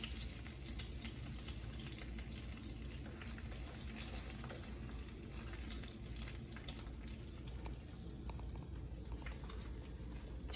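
Bacon frying in a pan makes a low, steady crackle and hiss at modest volume, mixed with faint kitchen clatter and no clear talk.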